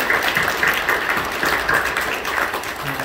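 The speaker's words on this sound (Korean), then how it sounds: "박수로 격려해 주십시오." Applause from a church congregation gathered for a worship service, a steady, dense wash of clapping held at an even level throughout, with no voices standing out above it.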